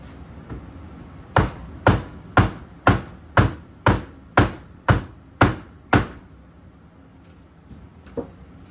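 Hammer blows packing black powder into a one-pound rocket, about nine sharp evenly spaced strikes in quick succession, loud and close, followed by quieter scattered taps.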